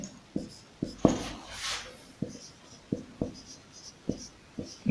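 Chalk or marker tapping and scraping on a board during a Hindi-medium class 9 maths lesson, a series of sharp, evenly spaced strokes fairly close with a brief scratchy sweep, no talking.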